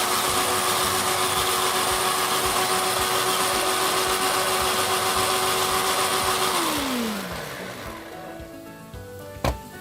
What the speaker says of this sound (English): we're going to blend that nicely into a nice smooth green paste